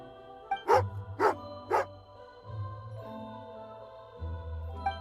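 Three sharp, loud barks from an angry dog character in a video game, evenly spaced in quick succession, over low droning game music with chime-like tones.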